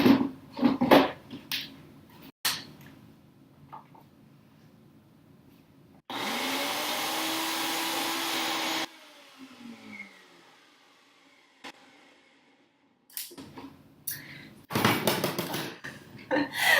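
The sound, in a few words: blender blending roasted peppers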